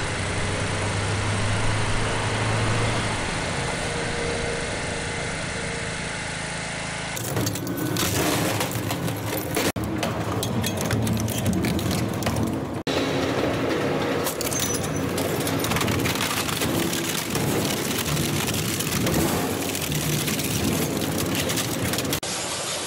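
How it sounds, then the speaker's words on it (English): A heavy forestry machine slices through trees with a continuous grinding, crushing roar, its engine droning underneath as wood splinters, loud and close, with birds faintly audible at the start. "This machine is wild. The way it slices through those trees is both powerful and satisfying to watch."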